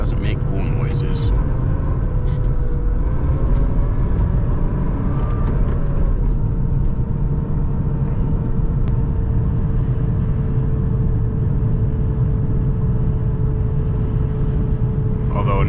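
A BMW E36 convertible drives through snow, its engine producing a steady, low, muffled cabin drone with tire and road rumble, while a person talks over it.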